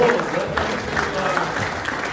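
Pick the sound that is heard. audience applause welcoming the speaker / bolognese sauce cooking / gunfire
audience applause welcoming the speaker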